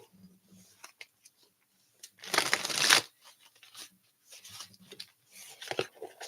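Chibi Tarot cards being shuffled, a burst of riffling and papery flutter in the middle, with lighter scattered taps and handling noises before and after, close and quiet.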